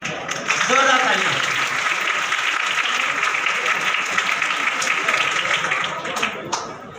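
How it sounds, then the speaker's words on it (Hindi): Applause at a Urdu-medium SSLC toppers' felicitation ceremony, a steady wash of many hands clapping for about seven seconds, fairly loud, with a brief voice near the start. "जोरदार तालियां।"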